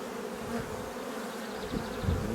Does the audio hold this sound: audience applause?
no